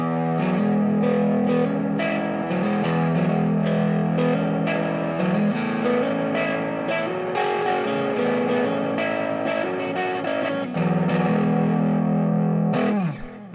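Electric guitar played through two overdrive pedals stacked together, a Disaster Area NNB and Chase Bliss Brothers setup, giving a thick, saturated driven tone with continuous strummed chords and picked notes, loud and steady, ending abruptly.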